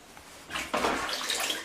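A plastering trowel drops into a bucket of water during house repair work, giving a sudden splash and then a sustained wash of churning water, close and fairly quiet.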